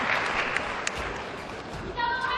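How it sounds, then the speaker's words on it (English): Spectators at a men's doubles table tennis match during the 2013 Korea Open in an Incheon gymnasium give a brief, moderate round of applause, the clapping softening and blending into crowd noise and an announcer-like tone near the end. "Applause from the spectators."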